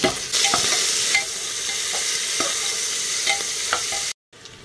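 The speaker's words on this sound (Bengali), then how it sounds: "এর মধ্যে আমি পেঁয়াজ কুচিটা দিয়ে দিচ্ছি" Chopped onion, bay leaf, cardamom, cinnamon, cloves and peppercorns sizzle steadily in hot oil, close and fairly loud. A spoon stirs with repeated scraping strokes, and the sound cuts off abruptly near the end.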